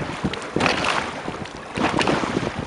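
A boat pounds through rough water as wind buffets the microphone in irregular gusts, with splashing surges and rushing air filling the whole stretch.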